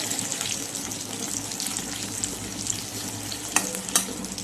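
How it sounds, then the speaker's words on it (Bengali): Salted greens fry in a pan, a steady dense sizzle with stirring and two sharp utensil knocks near the end, no voices. "এই যে এখানে ভাজা ভাজা হচ্ছে"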